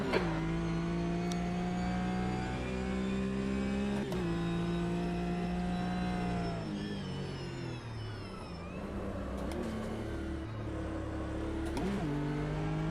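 GT race car engine in the Automobilista 2 racing sim, a steady loud droning whine held at high revs, dipping and rising through gear changes and braking across the stretch, with no voices over it.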